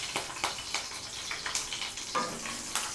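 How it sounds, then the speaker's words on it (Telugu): Sliced green chillies frying in hot oil in a pan, a close sizzle broken into short rhythmic bursts about every third of a second, as if stirred or shaken, with no speech. "కొంచెం ఈ పచ్చిమిర్చి లైట్గా వేగిన తర్వాత"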